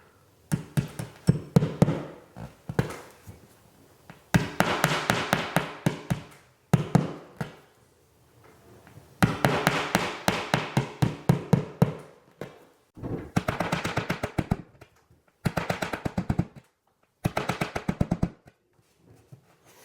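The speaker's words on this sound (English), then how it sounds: "I'm going to use a nail and double check to make sure I find exact center on my studs here" Hammer driving a nail into a wall to locate a stud center: clusters of quick, sharp taps in several separate bursts, close and fairly quiet, with short silences between.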